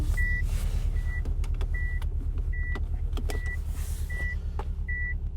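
A car's reversing warning beeps sound in short, evenly spaced high tones, seven in a row, over the steady low hum of a running engine heard from inside the cabin.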